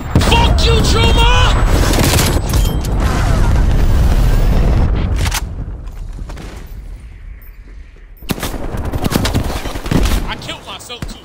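Missile strike in Call of Duty Warzone (Cold War era), loud booming blasts and rapid gunfire crackle that fade into a lull before another burst of fire, with a voice talking over the game.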